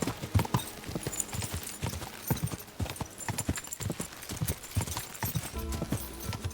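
Rapid, rhythmic clip-clop of a horse's galloping hooves in the video game Kingdom Come: Deliverance II, steady and close, with faint background sound and no talk.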